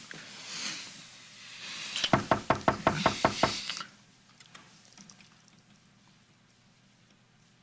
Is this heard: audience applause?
no